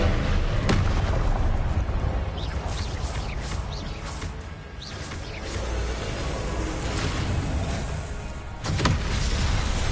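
A loud Confringo spell explosion in Hogwarts Legacy bursts with booming blasts and crackling magical impacts, sustained and heavy with a sharp hit near the start and another near the end.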